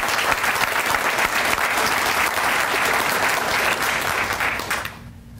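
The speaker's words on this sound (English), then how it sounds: "he deserves another applause" Dense applause from a crowd at a Republican party gathering, a loud continuous wash of clapping that cuts off abruptly near the end.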